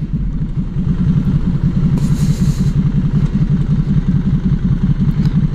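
Motorcycle engines rumble loudly and continuously close by at a busy seafront, a throbbing low drone of several bikes riding past with no talk.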